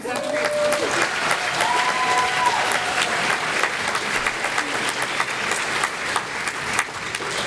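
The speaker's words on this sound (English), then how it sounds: "more round of applause for this amazing seventh grade" An audience claps warmly after a seventh grade band's performance at a middle school winter concert, a steady, dense wash of applause lasting throughout, with a few voices mixed in.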